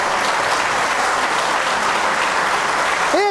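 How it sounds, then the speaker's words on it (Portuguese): Church congregation breaks into loud, sustained applause during a sermon, a dense wash of clapping that stays even throughout, ending as a voice starts to speak. "Quer aplaudir? Pode aplaudir Jesus por isso."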